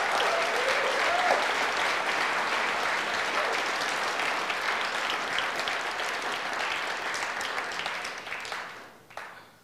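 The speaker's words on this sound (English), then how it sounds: "Are the people clapping" A large crowd applauds a political speech by Rand Paul, sustained dense clapping that stays loud for several seconds before tapering off at the end.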